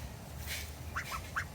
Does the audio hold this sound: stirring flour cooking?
no